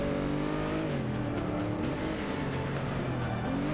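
Race car engines roar in Forza Motorsport 5, a loud, sustained drone with rising and shifting engine pitch as the cars accelerate close by, running continuously with no voices over it.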